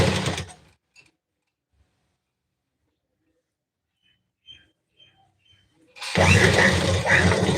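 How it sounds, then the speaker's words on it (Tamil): An electric sewing machine stitches a folded seam in cloth, running in two loud, steady bursts at the start and end with near silence and a few faint handling clicks between. "அதை சரி தையல் போட்டுக்கிறேன்"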